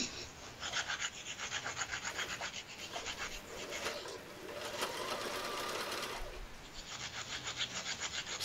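A sewing machine stitches in a zip during a craft session, its fast needle chatter running steadily through most of the stretch with a brief pause and restart near the end.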